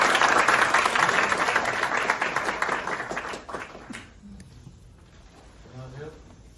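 Loud crowd applause welcomes a guest speaker at a university student lecture event in Korea, dense clapping that fades out after a few seconds into a quiet room with faint voices.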